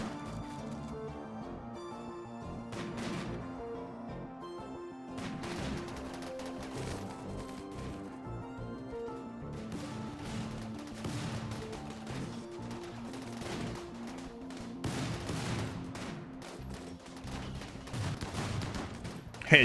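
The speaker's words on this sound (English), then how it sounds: "The very first centipede blaster shot killed him." Centipede blaster in RimWorld fires repeated bursts of rapid gunfire across the span, medium-loud, with game music or ambience underneath.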